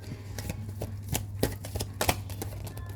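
A deck of tarot cards being shuffled by hand, a series of quick papery riffles and soft slaps over a low steady hum, close and fairly quiet.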